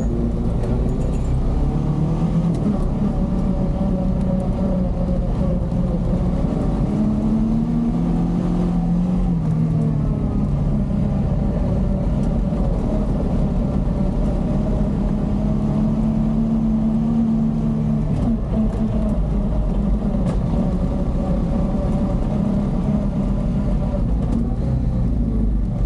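Honda Pioneer 500 UTV engine running steadily while riding, a loud, continuous drone with rising and falling pitch as it shifts gears, wind and terrain noise layered underneath throughout.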